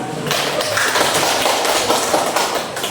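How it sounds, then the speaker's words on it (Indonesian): Classroom applause, a steady dense patter of many hands clapping together for about three seconds, loud and near with no pause. "Sekali lagi kita aplaus."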